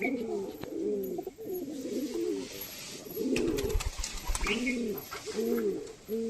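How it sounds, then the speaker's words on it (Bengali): A male pigeon, old and with a broken wing, coos in repeated rounded phrases, each a low throaty rolling call with short gaps between, close and clear over a faint steady background hiss. "এই যে আমার মেল পায়রাটা।"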